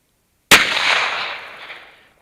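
A single sharp gunshot from a Lifecard .22LR pistol fired at about 10 feet cracks out of silence and trails off in a long fading echo.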